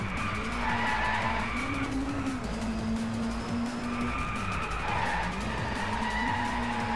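A car in the DRIVECLUB racing game drifts through corners with loud, continuous tire squeal over a droning engine, the screech rising and falling in pitch as the slide goes on, with no talking.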